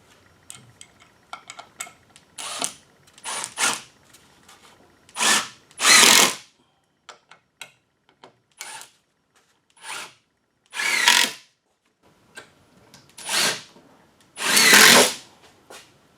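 Power drill driving fasteners into parts of a solid wooden workbench, heard as a series of short buzzing bursts of one to two seconds each, separated by pauses and small clicks, close and fairly loud.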